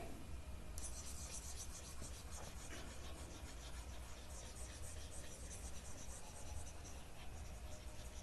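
Chalk or writing is rubbed off a classroom board during a geometry lesson on triangles, a steady scraping, rubbing noise close by with no voice over it.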